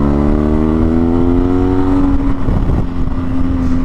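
A nearby car engine runs loudly with a steady, slightly rising tone as a blue car pulls out onto the road, then a brief rougher burst of noise before the drone settles again; no one speaks.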